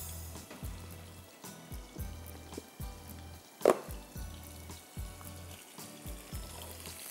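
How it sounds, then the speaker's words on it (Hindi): Crushed garlic and julienned ginger stir-fried in a pan give a steady sizzle under repeating low thumps, with one sharp clatter partway through. "लहसुन क्रश्ड 1 टेबल स्पून, दोनों को ज़रा सा स्टेयर फ्राई करेंगे"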